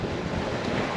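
Steady wind roars across a sailboat making about 7.5 to 8 knots on a beam reach toward the Leeward Islands near Tahiti and Huahine, with wash of waves and surf along the hull; a continuous close rush, no voices.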